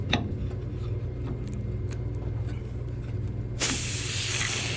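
Refrigerant leaking from an AC unit valve: a low mechanical hum, then a valve is cracked and a sudden strong hiss bursts out and continues steadily to the end.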